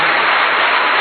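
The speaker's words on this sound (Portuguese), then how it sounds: "Vamos dar a melhor salva de palmas que o Rio de Janeiro já deu para a palavra de Deus" A church congregation in Rio de Janeiro bursts into loud, dense applause, a brief unbroken wash of clapping close and full.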